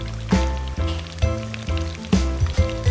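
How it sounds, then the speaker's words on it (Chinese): Duck feet slowly deep-fry in oil heated to medium-hot, crackling and spitting in bursts that swell and fade several times, close and fairly loud. "放到烧热至6成的油锅中慢炸"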